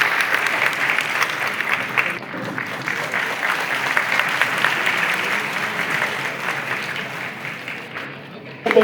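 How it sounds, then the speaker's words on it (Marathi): A crowd applauding at an honouring ceremony during a Phule–Ambedkar joint Jayanti festival in Nashik, sustained dense clapping for several seconds with a voice speaking over it and a brief louder burst at the end. "जरा जोरदार टाळ्या झाल्या पाहिजे आपण सर्वांच्या"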